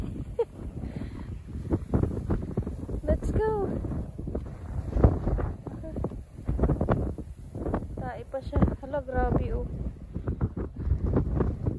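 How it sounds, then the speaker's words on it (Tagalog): Strong gusts buffet the microphone in heavy, rumbling bursts while people talk and exclaim excitedly throughout. "Lakas ang hangin."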